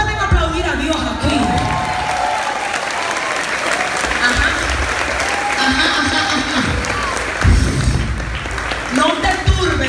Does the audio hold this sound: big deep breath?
no